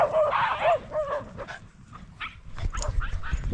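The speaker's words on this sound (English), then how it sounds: "growling deeply like that as they run is a really healthy sign of well socialised dogs" Several small dogs play and chase on a walk, giving short yips, whimpery barks and growly vocal bursts, close and lively, with a person talking intermittently.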